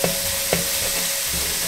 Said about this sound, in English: we've just got our onions sweating off